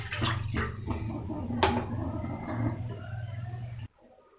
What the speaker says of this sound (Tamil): இதில் வந்து நான் 1 கிளாஸ் தண்ணி ஆட் பண்ணுறேன்.